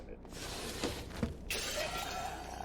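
Glass window shatters in a zombie survival video game, a sharp crash with a bright spray of breaking glass near the middle, heard under someone talking.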